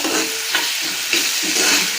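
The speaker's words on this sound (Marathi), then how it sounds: "आणि चांगलं असं नरम होईपर्यंत कांदा जरा असा खरपूस भाजेपर्यंत" Onion frying in a pan on a wood-fired stove, stirred as it softens and browns: a steady close sizzle with spatula scrapes and soft knocks over about two seconds.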